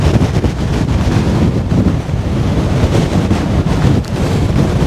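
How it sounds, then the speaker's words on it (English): Strong gusty wind buffets the microphone at the shore of Aberlady Bay, a dense continuous roar with faint surf mixed in, loud and steady throughout with brief dips between gusts. "It's a wee bit blowy."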